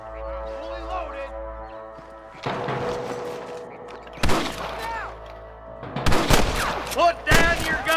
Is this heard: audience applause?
no